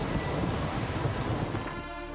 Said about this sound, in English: I don't like the rain. Makes it difficult to watch.